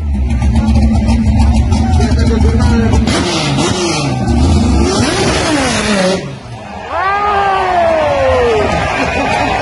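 A Ford Falcon drag racing car of Team Piedigrossi in the 300 Libres class at Lavalle launches and accelerates, its loud engine roar climbing in pitch through gear changes, with a crowd audible in the background.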